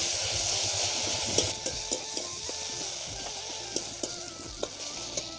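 Ginger garlic paste fries in a pan with a steady close sizzle, punctuated by several sharp clinks and scrapes of a utensil stirring against the metal.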